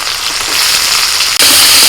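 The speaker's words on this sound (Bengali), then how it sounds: "কড়াইতে আরেকটু তেল দিয়ে আবার দিয়ে দিচ্ছি আমি পেঁয়াজ কুচি" Chopped onion hits hot oil in a wok, a loud, dense sizzling hiss that holds steady and then surges louder after a brief break.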